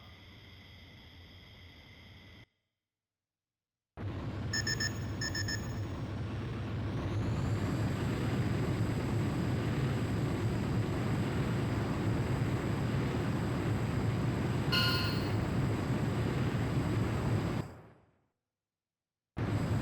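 Jet fighter taking off in Ace Combat: Joint Assault, a loud, steady engine roar building into a sustained broadband rush for about thirteen seconds before cutting out, with a brief high whine near the start.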